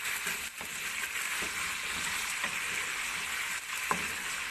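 Chicken jalfrezi with salt added frying in a pan, a steady soft sizzle with a few faint stirring taps, fairly quiet and even throughout.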